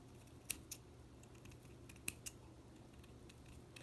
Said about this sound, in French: je vais venir après ça couper juste droit sur le dessus